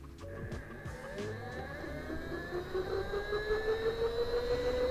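An electric dirt bike accelerating hard to top speed, a rising motor whine climbing steadily in pitch over several seconds with road and tire noise underneath, close and continuous.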